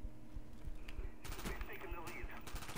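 Gunfire from the video game Call of Duty Black Ops, with a quiet stretch of scattered shots and low rumble before sustained bursts of rapid automatic fire. The shots sit close and loud, with a voice faintly underneath.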